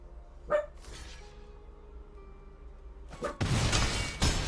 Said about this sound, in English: Never mind my dog.